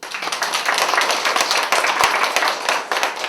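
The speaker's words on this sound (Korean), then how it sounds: "우리 박수." A church congregation claps together during a sermon, a dense, steady patter of many hands lasting several seconds without a break.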